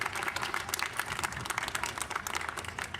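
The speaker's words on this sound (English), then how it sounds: "So give yourself a round of applause." Crowd applause at an outdoor rally supporting the Scott Sisters, sharp crackling claps from many people continuing steadily across the whole stretch.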